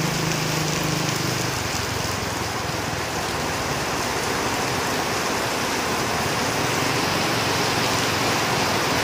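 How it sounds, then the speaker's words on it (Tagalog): Heavy rain pours down in a dense, continuous hiss, loud and close, with a low rumble beneath and no voices over it. "kaya sobrang lakas ng ulan."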